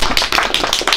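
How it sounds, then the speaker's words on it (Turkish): A village audience claps after a Turkish folk song, giving a brief, loud, dense burst of close applause with no voices over it. "Alkış!"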